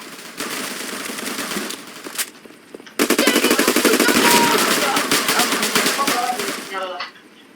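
Rapid automatic gunfire from a ground war match in a video game, long dense bursts of shots loud and close, with a brief pause before a heavier stretch of continuous firing, while players talk over it.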